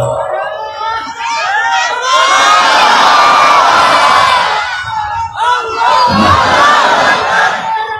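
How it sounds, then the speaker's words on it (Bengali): A large crowd at an Islamic religious gathering in Dhaka roars slogans and dhikr in unison, loud and close, in two sustained surges separated by a brief dip. "জালো জালো, এমনি জোরে জিকির দাও তো, জোরে স্লোগান দাও"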